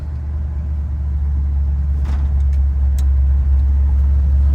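A car engine idles with a steady low rumble, holding near constant with a slight rise in level, heard up close without talk.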